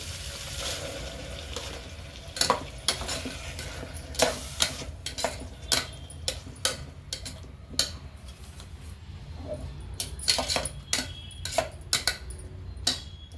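Ground masala sizzles and fries in a pan as a spoon stirs it, with a steady low sizzle under repeated sharp scraping taps of the utensil against the pan, close and fairly quiet.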